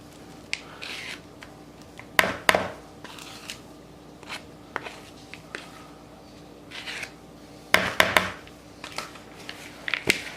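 Cookie dough with chocolate chips and macadamia nuts is mixed by hand, close squishing and rubbing with scattered louder rustling bursts, with no talking.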